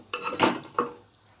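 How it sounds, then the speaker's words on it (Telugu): Okra fry being transferred from a pan into a serving bowl: a quick cluster of close, bright metallic scrapes and clinks of a spoon on the pan, then a final lighter clink. "ఇప్పుడు స్టవ్ ఆపేసి సర్వింగ్ సర్వింగ్ బౌల్లోకి తీసేసుకుందాం"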